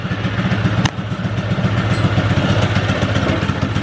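A 20-year-old Polaris Pro-X 120 mini snowmobile, just brought back to running, idles on its own with a steady, close, low, throbbing clatter and one brief sharp tick near the start.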